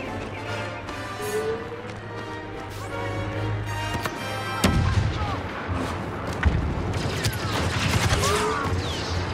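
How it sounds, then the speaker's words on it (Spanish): Rapid bursts of blaster fire in Star Wars Battlefront II crackle and pop repeatedly, some deflected by a lightsaber, with booming impacts and mechanical clatter building in intensity toward the end. "Redirijo los disparos hacia ellos con el sable"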